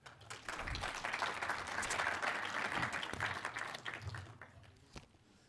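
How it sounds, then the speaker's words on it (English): Audience applause at a celebration event at Menzi Primary School in Johannesburg, a steady wash of many hands clapping that swells, holds, then thins out toward the end, with faint voices underneath. "You must give yourself and so a round of applause"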